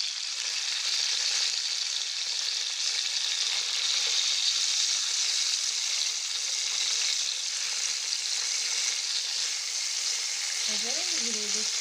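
Chicken shashlik skewers frying in a pan give off a steady, loud sizzle throughout, and a brief scrape near the end marks them being turned over.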